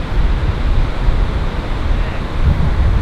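Surf pounding at a Hawaiian shore break near Pipeline and Rocky Point, a steady loud wash of crashing waves mixed with gusty wind rumble on the microphone, no voices.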